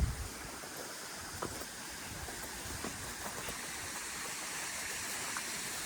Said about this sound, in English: So as I finish the trail, the waterfall is right there.